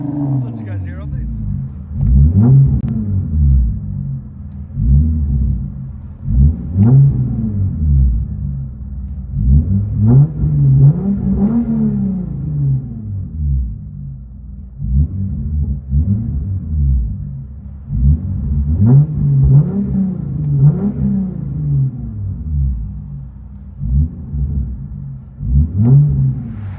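A 2016 Hyundai Genesis Coupe 3.8L V6 with a muffler delete, factory resonator and factory tips is revved repeatedly in bursts, each deep, loud exhaust sweep rising and falling, close by throughout.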